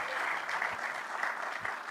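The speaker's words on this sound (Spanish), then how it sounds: "¿Cuántos le dan un aplauso al Señor?" A church congregation claps together during a Spanish-language sermon, a sustained, fairly soft wash of applause from a room of worshippers with no speech over it.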